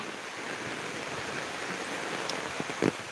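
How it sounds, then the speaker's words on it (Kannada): Heavy rain pours steadily in a dense, even hiss, with a few louder drips and splashes standing out near the end. "ಮಳೆ ಮಳೆ ಮಳೆ ಮಳೆ ಜೋರ್ ಮಳೆ"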